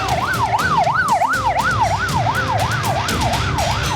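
An ambulance siren wails at a Gaza strike site, its rising and falling tone cycling rapidly and evenly, loud and close, over a rumble of traffic and street noise.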